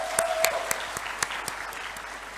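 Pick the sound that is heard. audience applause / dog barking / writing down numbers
audience applause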